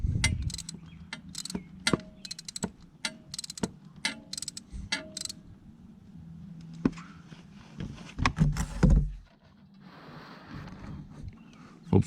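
An oil filter is unscrewed on a 2013 Kawasaki Ninja 650, heard as a series of sharp metallic clicks and ratcheting taps, close and intermittent, then a short scraping rustle and quieter handling.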